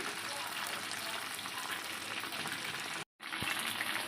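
Chicken pakoda deep frying in hot oil, a steady dense sizzle that runs unbroken for about three seconds, cuts out briefly, then resumes close by.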